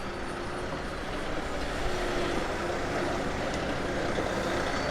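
A truck rumbles steadily at a work site as it backs in to be loaded, its engine drone continuous and moderately distant with no talk.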